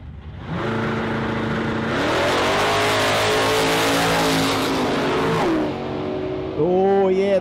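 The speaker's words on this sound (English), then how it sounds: "Let's hear this big block sing again." A big-block drag racing car roars loudly down a dragstrip, its engine climbing steadily through the gears with a brief dip near the end before revving hard again, sustained and close.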